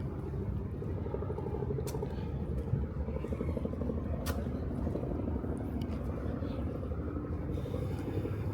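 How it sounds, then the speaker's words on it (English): A low, continuous rumble of helicopters from nearby heliports hangs over Lower Manhattan street noise, steady and somewhat distant, with a couple of sharp clicks breaking through. "The sound of helicopters everywhere down here."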